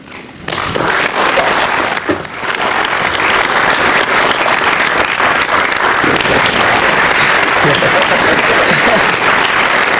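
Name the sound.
studio audience applause and clapping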